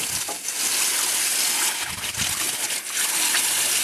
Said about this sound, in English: I'm going to let that be rinsing for a little while with running water